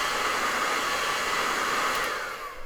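A hair dryer blows to dry acrylic paint on a canvas, a loud steady close whirring rush that holds constant and then starts to wind down as it switches off.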